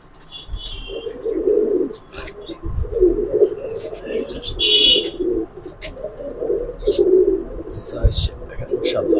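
Giribaz pigeons cooing in repeated low, throaty phrases close by, with scattered chirps and bird calls above and people talking nearby.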